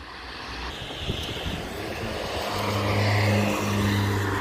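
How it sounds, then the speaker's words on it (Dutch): Road traffic passes along a provincial connecting road near Vogelwaarde, rural Zeeland. A vehicle approaches, swells into a loud drone and rumbles past nearby, with no voices. "hier is er natuurlijk wel wat verkeer"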